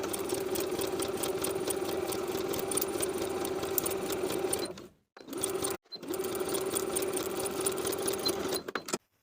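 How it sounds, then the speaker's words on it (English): A sewing machine stitches a knit T-shirt sleeve to the bodice, running steadily at close range with two brief stops near the middle before carrying on. "Sew the sleeve to the bodice with a 3/8 inch seam allowance."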